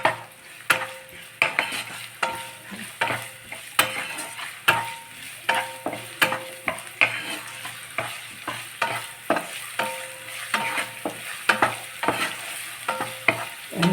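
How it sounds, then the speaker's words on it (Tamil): Onions sautéing in a pan for Maharashtrian-style stuffed brinjal, a steady sizzle with repeated scraping stir strokes of a spatula against the pan throughout, close and fairly loud, with no talking. "வெங்காயம் கொஞ்சம் வதங்கிட்டோம்."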